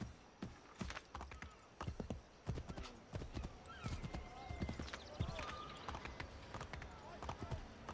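Horse hooves clip-clopping at a fast gait in Assassin's Creed III, moving through the streets of Boston, with a whinny and other game sounds mixed in and someone talking over the steady hoofbeats.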